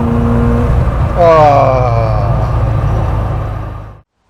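An Opel Manta B2 16v engine revs hard under acceleration, its harmonics sweeping upward mid-clip over a steady road rumble before cutting off abruptly near the end.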